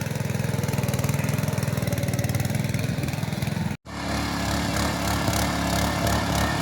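Close, steady chugging of a tractor tiller engine running, briefly cut off by a short gap before resuming at a rougher, lower rumble.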